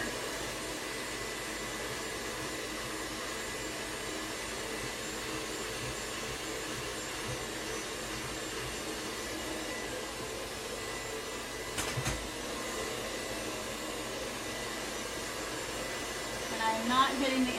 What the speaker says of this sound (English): Holding my brush at a diagonal, and I'm blow drying against the hair,